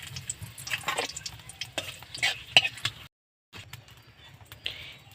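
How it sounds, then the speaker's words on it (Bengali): Broken dried red chili and a bay leaf frying in hot oil in a pan, with sizzling, crackling and scattered stirring clicks close up. A short silent gap splits it before the sizzle comes back. "তেলটা গরম হয়ে গেছে দিয়ে দিলাম একটা শুকনো লঙ্কা টুকরো করে"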